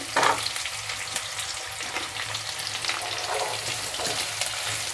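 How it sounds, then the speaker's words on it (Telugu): Thinly sliced carrots and potato pieces fry in a pan with a steady, close hiss, broken by brief stirring scrapes and louder sizzle bursts, no voices. "రెండు క్యారెట్లు తీసుకున్నాను నేను సన్నగా కట్ చేసుకున్నాను సరే వేగనిద్దాము అందులోనే ఆలుగడ్డ ముక్కలు"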